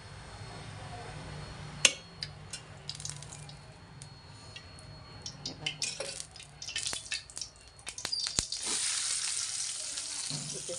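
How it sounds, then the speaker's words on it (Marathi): Chopped onion fries in oil in a kadhai, soft sizzling at first, then louder bursts of crackling and spatter with scraping stirs as more goes in, fairly close and with no talking. "तर कांदा लाल होईस्तोवर परतून घेते."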